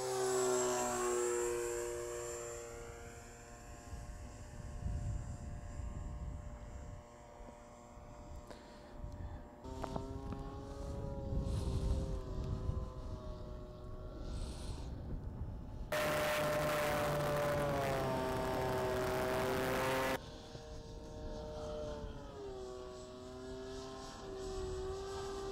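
A Balsa Basics Spitfire RC model airplane flies overhead as the pilot banks it through a turn. Its electric motor whines steadily, with the pitch rising and falling as it passes near and far, and no voices are heard.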